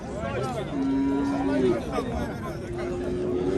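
Cattle and young bull calves at a busy livestock market in Jalal-Abad, with a drawn-out low moo rising over a steady murmur of crowd noise and people talking nearby.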